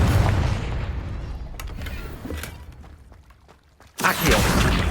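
A fiery Confringo blast spell in Hogwarts Legacy booms and crackles, fading into rumbling debris, then a second loud burst strikes near the end.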